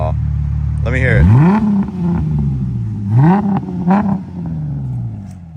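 A base V6 Ford Mustang with an aftermarket exhaust revs in two close throttle blips, each rising and falling back to a steady idle, with people talking nearby.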